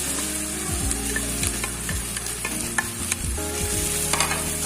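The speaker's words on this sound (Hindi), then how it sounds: "मसाला मैंने 1 मिनट तक अच्छे तरीके से फ्राई कर लिया है इस तरीके से। अब हम इसमें ऐड करेंगे चिकन बॉइल्ड एंड श्रेडेड।" Boiled, shredded chicken sizzles in fried masala in a pan as it is stirred, a dense continuous frying hiss with scraping stirs and a low background hum, no one talking.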